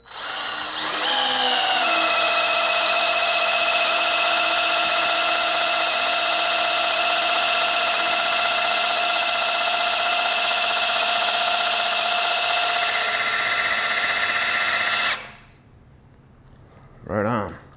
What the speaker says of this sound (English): with just a drill motor, we got 60 pounds of pressure